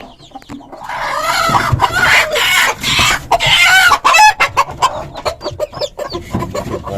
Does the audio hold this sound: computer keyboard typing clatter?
no